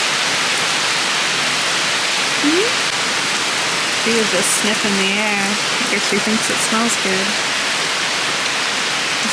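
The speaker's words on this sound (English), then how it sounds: "so it's definitely raining" Steady rain falling outside in summer, a continuous close hiss under someone speaking.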